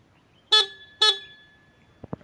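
Two loud, high-pitched horn blasts from a Honda CBR 150R motorcycle, each about a third of a second long with a bright, shrill tone, close up, followed by a couple of faint clicks.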